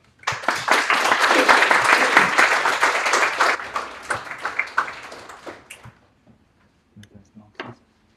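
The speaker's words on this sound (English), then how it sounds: "I would like you to give the biggest round of applause that you can muster for Giorgio Cassella." Loud audience applause at a live content-creator meetup in Sheffield, a dense burst of clapping that swells for several seconds, then thins into scattered claps and fades out.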